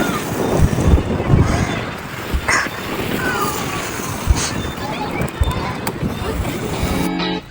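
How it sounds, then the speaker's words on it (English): Strong wind gusting across the microphone at a park, producing rumbling buffets and fluctuating roar, with people talking faintly underneath. "It's getting so windy."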